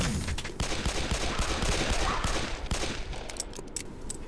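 Rapid volleys of gunfire from the horror video game Possessed crackle in quick, dense bursts for a few seconds, fairly quiet overall, then thin out into sparser shots.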